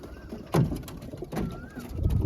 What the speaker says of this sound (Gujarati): ઉપર પણ આવી ગયા છે ઘણા બધા કબૂતર.